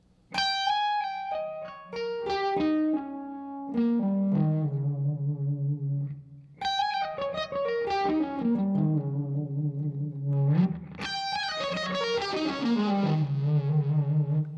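An electric guitar with distortion and effects plays dominant 7th arpeggios joined into one scale, fast descending runs of clear sustained notes in three flowing phrases, with no talking.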